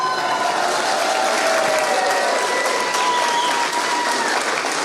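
A hall audience at an accordion band's 75th anniversary event bursts into sustained loud applause with whoops and cheers, a dense continuous clapping that holds for several seconds.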